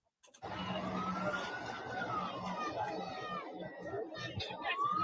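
Police sirens wail from somewhere in the distance, one rising and falling tone sweeping beneath a steady wash of outdoor crowd noise and voices talking.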